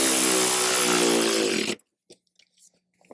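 A power tool runs steadily at close range, tightening a bolt on a subwoofer bracket inside a 2018-up Jeep Wrangler JL, a loud whirring buzz lasting under two seconds, then cutting off abruptly into near silence with a few faint clicks.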